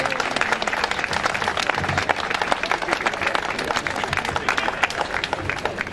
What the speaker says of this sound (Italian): Magari gli facciamo un applauso